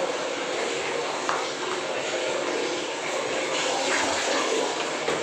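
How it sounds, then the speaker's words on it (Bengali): Water pouring from a tap into a container, a continuous, fairly loud rushing stream that holds steady without pause. "জল পড়ছে"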